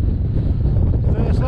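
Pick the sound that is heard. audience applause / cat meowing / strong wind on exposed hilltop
strong wind on exposed hilltop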